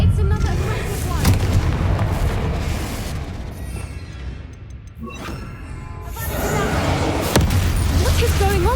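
Repeated heavy blasts of the Confringo fire spell going off in a haunted Hogsmeade scene of a Hogwarts game, loud booming bursts with crackling tails that come in waves.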